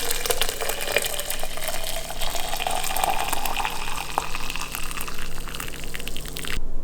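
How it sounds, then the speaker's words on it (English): Boiling hot water pours steadily into a home-brewing container holding leftover malt extract for a Coopers IPA kit. The flow is continuous and fairly loud, then cuts off abruptly at the end. "I'm gonna put hot water in here to make it, well, to get the rest out. So here we go, boiling hot water."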